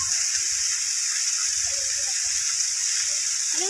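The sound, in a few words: water falling from a hillside waterfall onto the road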